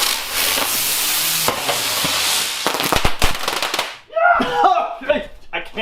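Oversized spinning helicopter firework driven by rocket engines, a loud close fizzing hiss with sharp crackles and pops, fading out into a voice speaking at the end.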